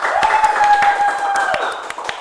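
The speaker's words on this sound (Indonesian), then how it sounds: "Ya, tepuk tangan semuanya." A class claps during a microteaching session in an Islamic education lesson at school: a handful of scattered, sharp claps near the mic over a sustained steady tone.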